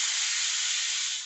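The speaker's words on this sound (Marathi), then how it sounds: "तुम्ही पाहताय पटापट कुकरला अशा या शिट्ट्या यायला लागल्या आहेत" A pressure cooker whistles in a loud, steady hiss of escaping steam while chicken popti cooks inside, one continuous blast close by that cuts off abruptly at the end.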